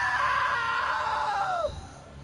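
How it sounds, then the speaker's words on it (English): A long, loud scream from a character in the video game What Remains of Edith Finch, sustained for over a second and a half before dropping sharply in pitch and cutting off, heard alone. "Now that was a great scream."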